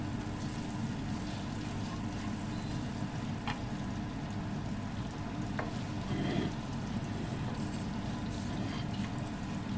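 Crushed cumin seeds sizzle steadily in hot oil for capsicum rice, a soft continuous frying hiss with a few light clinks of a utensil, no talking.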